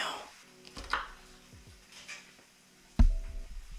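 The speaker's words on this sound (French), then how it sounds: "Je coupe le oignon en essayant de ne pas pleurer" Onions are chopped with a knife on a board in a home kitchen: a few separate taps, then one sharp, loud chop near the end, close to the mic.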